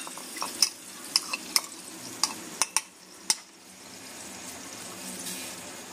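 Momo filling spices fry in hot oil, a soft sizzle with a spatula scraping and tapping the pan in several sharp clicks, then settling into quieter frying.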